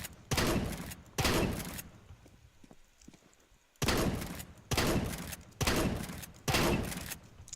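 Five loud pump-action Nova shotgun blasts in Counter-Strike: Global Offensive, each a sharp boom trailing into a short tail and pump rack, arriving in an uneven rhythm with a quieter gap of faint clicks in the middle.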